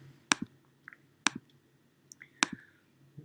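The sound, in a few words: computer mouse click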